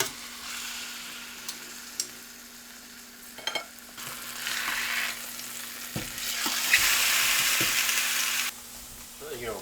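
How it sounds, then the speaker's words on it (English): Venison shoulder meat searing in hot oil for a stew, a steady sizzle with occasional sharp pops and clinks, swelling louder in the second half before easing off, with no talk. "Sear our meat."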